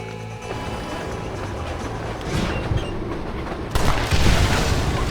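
A blast in the Western video game Red Dead Redemption, with rumbling train-track noise building and then a sudden louder burst near the end, heard alone.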